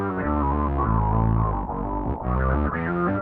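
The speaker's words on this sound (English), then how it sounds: "So that sound is the Hex Fuzz sound being processed by an external effect pedal." Roland GR300 guitar synthesizer hex fuzz run through an auto-wah pedal, a loud, thick distorted tone with sweeping filtered harmonics over a steady low note, playing continuously with brief dips.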